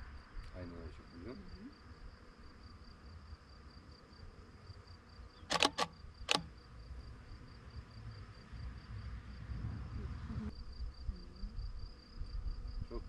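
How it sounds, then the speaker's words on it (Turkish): Steady buzzing of many bees hums through the whole stretch in a flowering canola field, with a couple of sharp clicks midway and faint voices nearby. "Çok fazla arı var."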